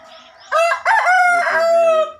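A rooster among chickens raised for sale crows loudly and close by, one full multi-part crow with a short break in the middle.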